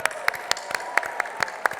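Scattered, crisp handclaps ring out at the JDRF Illinois One Dream Gala as the audience applauds donors: about a dozen sharp, irregular claps from a small group, close and fairly loud, with no talk over them.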